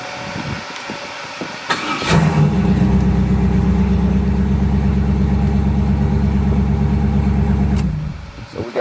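V8 car engine cranking over briefly, then catching and settling into a loud, steady, deep idle that holds for several seconds before shutting off. Nobody speaks.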